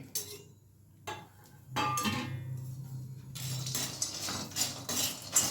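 Dates are stirred and fried in a pan at home while making homemade baby cereal, giving faint, close scraping and metallic clinks of a utensil against the pan, quiet at first and then more continuous.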